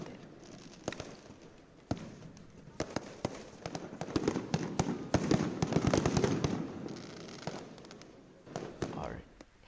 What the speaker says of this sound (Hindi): अमृतसर के स्वर्ण मंदिर के चारों ओर आतिशबाजी का नज़ारा देखने को मिला।